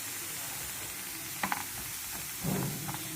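Drumstick leaf thalipeeth frying on a pan, a low steady sizzle with a couple of brief clatters and a short burst of louder frying, heard close with no voices.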